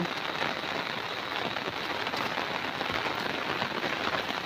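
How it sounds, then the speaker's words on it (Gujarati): Heavy rain pours steadily onto a farm field and surfaces, a dense unbroken hiss that holds level throughout with no voices. "વરસાદ બહુ પડે છે"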